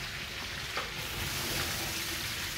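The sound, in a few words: washed rice and lentils added to cooking meat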